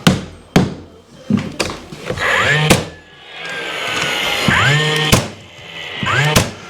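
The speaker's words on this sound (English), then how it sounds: "We're using the 15 gauge DeWalt nail gun." Sharp, loud nail shots from a DeWalt 15 gauge nail gun during trim carpentry, several spaced bursts with hissing air and tool whine between them, close to the microphone.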